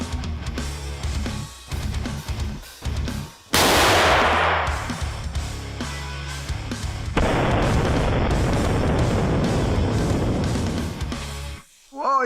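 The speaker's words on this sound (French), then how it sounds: "nous mettons le pétard et on se bouche les oreilles" A firecracker is set off in a test against a paint sold as impenetrable: one sudden, loud, close bang, followed later by a long stretch of noisy hiss and rumble before things fall quiet.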